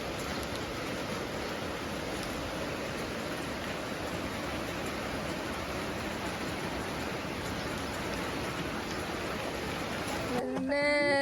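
Steady rain falls on an outdoor route in rural Thailand, a dense, even hiss holding for about ten seconds before a brief burst of other sound at the very end.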